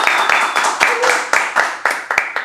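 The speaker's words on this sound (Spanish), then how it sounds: "un fuerte aplauso a nuestro invitado" A studio audience applauds a guest at the close of a Chilean civic-dialogue talk program: steady, close clapping for about two seconds, with sharp pulses standing out from the dense patter.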